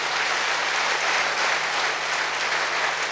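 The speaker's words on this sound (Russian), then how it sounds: "Давай дадим Господу аплодисменты." A church congregation applauds in steady, dense clapping that carries on evenly for a few seconds with no voices over it.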